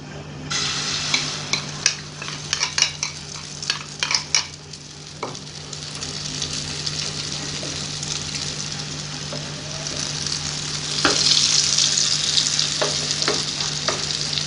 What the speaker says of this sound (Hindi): अब मैं इसमें फ्राई करूँगी अंडा जो हमने मिक्स किया था।